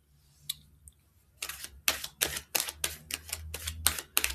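Tarot cards are flipped and laid down in a quiet room, a series of sharp, close card snaps and slaps, sparse at first and then coming in a quick, fairly regular run.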